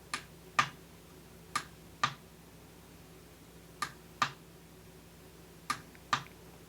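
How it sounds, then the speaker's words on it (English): Crisp clicks from a device button pressed in pairs, each pair a quick double tap with pauses between, about eight sharp clicks overall, close up and quiet with no talking. "I'm curious how ASMR clicky this button is."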